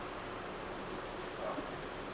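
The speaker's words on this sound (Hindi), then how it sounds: "हल्की हल्की बारिश हो रही है।" Light rain falling outdoors gives a steady, even hiss that stays constant throughout, soft and diffuse with no individual drops standing out and no talking.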